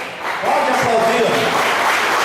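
A church congregation breaks into applause, a dense roomy clatter of many hands that builds quickly and holds steady, with a voice sounding over it.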